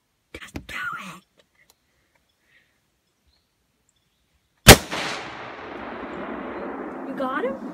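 Outdoors on a snowy weekend in Mississippi, a single sharp gunshot cracks loudly after soft whispering and a long silence, then trails into a broad rumbling echo while distant birds chirp.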